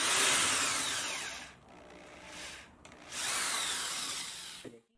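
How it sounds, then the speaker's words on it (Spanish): A power drill bores a dowel hole in plywood through a Drillpro jig: a loud, close, high whirring grind runs in two long bursts with a brief dip between them, then stops with a small clunk. "Ya puedo apretar la guía para hacer la tercera perforación."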